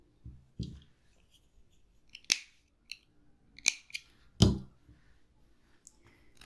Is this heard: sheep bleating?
no